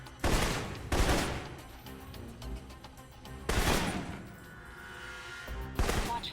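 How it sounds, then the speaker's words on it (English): Assault rifle fire from the video game Alpha Protocol comes in three or four loud, sharp bursts spaced a couple of seconds apart. Quieter game sound fills the gaps between bursts. "the assault rifle's the key. It's accurate, powerful. Just be sure to line up your shots carefully"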